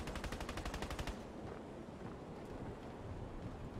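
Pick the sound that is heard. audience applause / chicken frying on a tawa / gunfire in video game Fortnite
gunfire in video game Fortnite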